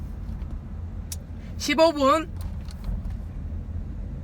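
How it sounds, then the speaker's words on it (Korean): A Chevrolet Trax Crossover engine idles with a steady, low rumble throughout, and a voice speaks briefly over it partway through. "시동을 켜고"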